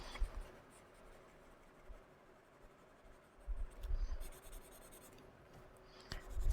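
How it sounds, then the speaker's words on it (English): Graphite pencil strokes scratching on paper while shading, faint and close, with a few soft louder bursts of rubbing and no talk. "This is the normal graphite pencil that I am working with"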